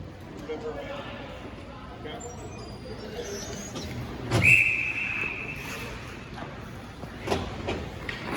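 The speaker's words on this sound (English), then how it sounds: "the whistle blows" Referee's whistle blown at a youth ice hockey game, one sharp shrill blast a little distant, partly over arena noise and a commentator talking throughout.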